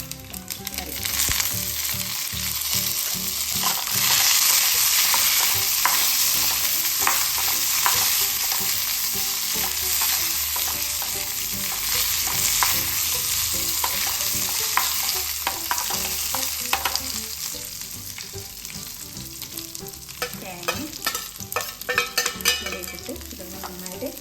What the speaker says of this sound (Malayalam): ഇട്ടിട്ട് ഇതൊന്ന് നന്നായിട്ട് ചോക്കെ വറുത്തെടുക്കണം നമുക്ക്.